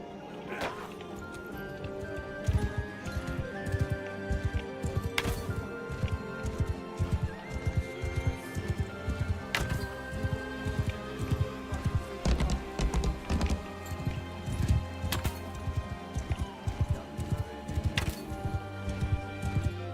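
A horse gallops through combat in a video game, with rhythmic clip-clop hoofbeats and sharp impacts repeating steadily at moderate loudness.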